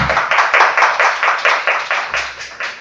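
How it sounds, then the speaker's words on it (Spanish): Audience applause at a pain psychology seminar welcomes a speaker, a close, rhythmic burst of clapping with regular pulses of hands striking in near unison, lasting a few seconds. "Pido un fuerte aplauso para el licenciado Francisco."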